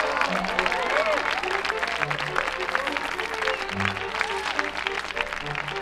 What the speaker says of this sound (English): the cheers of the crowd went to Hobart's head